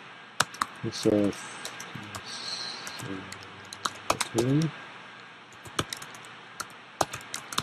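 Keys on a computer keyboard clatter in short, irregular bursts of crisp clicks, close by, with a person talking briefly between them.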